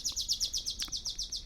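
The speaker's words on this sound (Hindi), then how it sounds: "चिड़ियाँ बोल रही है।" Birds chirping in quick repeated bright tweets, about eight evenly spaced calls in a rapid rhythm, fairly faint and alone with no talk.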